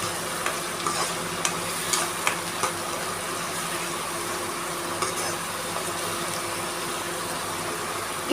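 Cumin, cinnamon and tomato-onion paste fry in hot oil with a steady, even sizzle, while a spoon knocks and scrapes the pan now and then; no one speaks.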